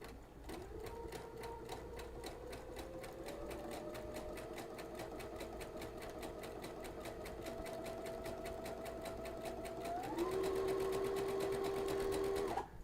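A sewing machine runs a wide zigzag stitch with an edge joining foot, giving a fast, even mechanical chatter of needle strokes that holds steady, then rises in pitch and intensity toward the end, close and alone.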